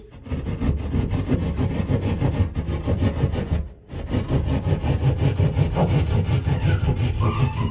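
A keyhole saw rasps steadily through glued-on sheetrock in a small restroom, rapid back-and-forth strokes close and loud, with one brief pause midway.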